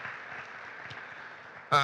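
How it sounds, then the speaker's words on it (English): A steady wash of clapping from a crowd, fairly even throughout, then a voice cuts in loudly near the end. "I'd like to give everybody a round of applause for making the trip up"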